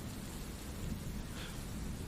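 A storm's steady rain hisses over a low, continuous rumble of thunder, dense and unbroken throughout with no voices.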